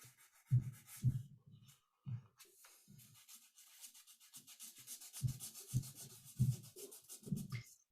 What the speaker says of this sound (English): So you're actually mixing it, filling it, and sanding it all there together, aren't you?